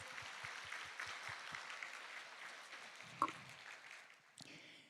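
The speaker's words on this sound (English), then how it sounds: "Would you please welcome each other with a big round of applause?" Audience applause at the opening of the AIRIS 2025 AI regulation conference, a steady wash of clapping from a large crowd across the whole stretch, with a few low thumps and a brief louder accent near the end.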